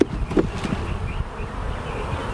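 Honeybees buzzing around an open hive during an inspection with a frame pulled out, a dense, steady close-up drone with a few sharper passes near the microphone.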